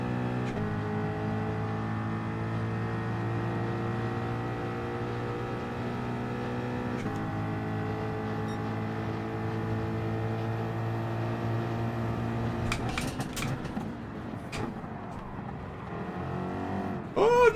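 Engines of Group 3 race cars, including a Mustang, in a Gran Turismo 7 daily race at Road Atlanta: a steady, loud engine drone running through the whole clip. Near the end, other cars surge past, rising and roaring close by.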